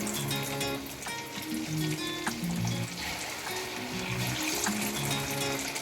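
Chicken pakoras frying in hot oil, giving a dense, steady crackling sizzle at close range with faint tonal background music underneath.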